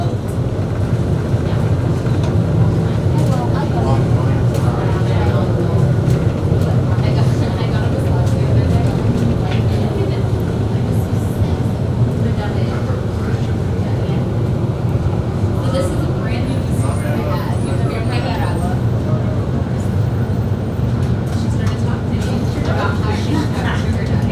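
A Miami MetroMover automated people-mover train pulls into Riverwalk Station in Brickell, its steady loud rumble and rolling hum filling the whole stretch under station announcements.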